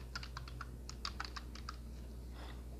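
Fingers type quickly on a computer keyboard in short bursts of crisp clicks. Near the end a faint hum and a softer keystroke follow, with no talking.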